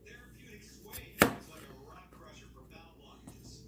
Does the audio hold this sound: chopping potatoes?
yes